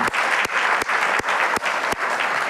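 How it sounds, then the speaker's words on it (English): Audience applause at a school culminating event after a faculty presentation, a steady wash of many hands clapping throughout, close and fairly loud, with a few sharp louder claps punctuating it at regular intervals. "Give them another round of applause for the presentation."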